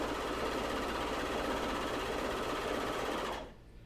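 Serger sewing machine stitching elastic onto underwear: a loud, continuous close-up whirring hum with rapid mechanical chatter that runs for over three seconds, then cuts off abruptly.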